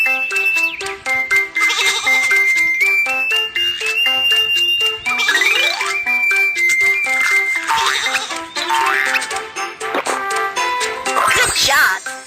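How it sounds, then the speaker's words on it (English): Cartoon sheep bleat on a train track in a children's train game, with repeated synthetic bleats mixed over bright, busy game music and a whistling tone, loud and continuous. "Some sheep are on the train track."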